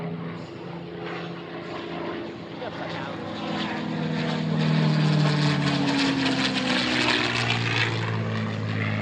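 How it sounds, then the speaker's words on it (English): Deep, throbbing drone of radial piston engine warbirds that swells louder as the aircraft passes close overhead, then holds a rumbling roar as it moves on, at an air show. "Today we've heard radial piston engines from Warbird Thunder with Chris and Butte."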